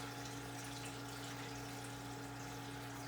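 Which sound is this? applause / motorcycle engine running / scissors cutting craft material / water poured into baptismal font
water poured into baptismal font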